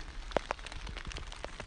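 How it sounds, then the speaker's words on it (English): Rain falls on a mountain, with dense patter and scattered louder drops hitting nearby surfaces, steady and close, with no talking. "Amazing to watch the rain."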